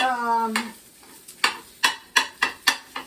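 Mexicali refried beans fry in a pan, a soft sizzle under a series of regular, sharp scraping stirs of a spatula, about one every half second, after a brief hum at the start.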